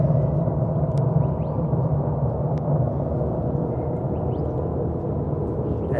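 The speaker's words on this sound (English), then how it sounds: "That's a loud airplane." F-35 fighter jet engines idling on the ground at an air base heard from a nearby house, a heavy continuous low rumble that stays loud and steady without letting up, with no voices.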